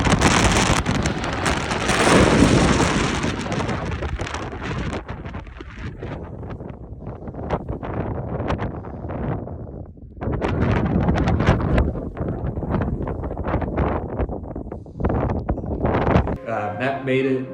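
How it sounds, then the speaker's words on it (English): Strong wind at Great Sand Dunes in Colorado roars and buffets the microphone in heavy gusts, easing briefly midway before surging again, with faint voices in places. "It was great until the rain came and the wind."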